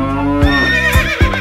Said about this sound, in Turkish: Atlar var, inekler var,